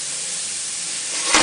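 Chicken and leeks sautéing over medium-high heat in a hot pan give a steady, loud, close hiss and sizzle throughout, with a brief sharper flare near the end and no voices.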